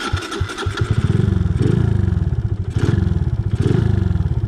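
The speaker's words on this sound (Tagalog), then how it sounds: "Tatry kong i-start ulit." A motorcycle engine is restarted after the rear wheel locked: the starter cranks briefly, then the engine catches and runs with a loud, close, pulsing idle that surges rhythmically about once a second.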